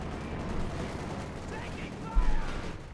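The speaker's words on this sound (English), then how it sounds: "Bazooka fire and anti-tank rifle grenades here." Distant bazooka blasts and anti-tank rifle grenade fire in the strategy game Company of Heroes 2, a muffled battle rumble with a sharper burst near the end.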